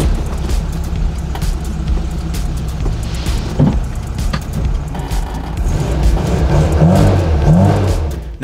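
Classic Mini engine with a fault, revving and surging while driving, a steady car drone with a rise in revs toward the end.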